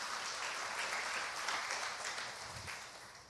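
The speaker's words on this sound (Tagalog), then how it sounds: "Isang malakas na palakpak po para sa Panginoon." Faint, continuous applause from a worship service congregation clapping for the Lord, a soft, even wash of many hands heard at a distance with no speech.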